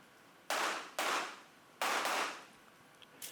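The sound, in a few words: gunshots during a USPSA practical shooting stage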